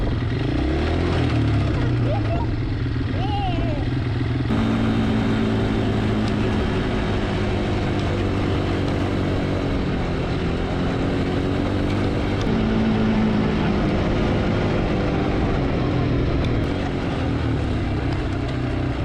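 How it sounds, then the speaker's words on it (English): A four-wheeler ATV engine drones steadily and loudly as it rides across open ground, its tone shifting slightly with throttle, while a voice speaks briefly over it. "riding the four-wheeler and he's wanting to show you how he can do"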